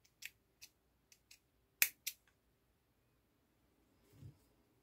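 Scissors snip through crochet yarn in a quiet room, a handful of short, crisp clicks spaced irregularly, one sharper cut standing out, followed by a faint soft rustle.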